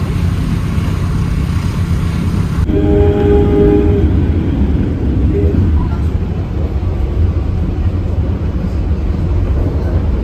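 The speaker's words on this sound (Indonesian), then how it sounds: "kereta api Kuto Jaya Selatan tambahan berhenti stasiun Sidarja" A passenger train, the Kutojaya Selatan, pulling into Sidareja station in Cilacap, Indonesia; loud continuous rumble with a brief horn-like tone early on, steady rolling noise throughout and no talk.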